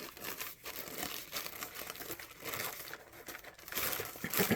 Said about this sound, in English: I'm going to see how easy it is to rip this off of here